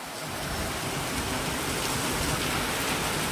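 Steady rain falling outdoors on a street, a dense, even hiss of drops that stays loud and constant throughout with no voices.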